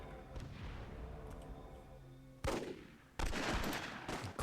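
Gunfire and a cannon-like blast in the Myth II Soulblighter WWII game, two loud broadband bursts in the second half cutting over a busy battle ambience.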